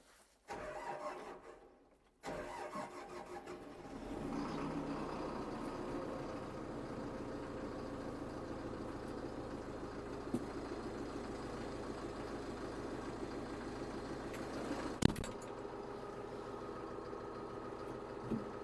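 A DTZ 1404 tractor's diesel engine cranks briefly, falls silent, then catches and settles into a steady, loud, close idle that drones on evenly with a brief knock near the end.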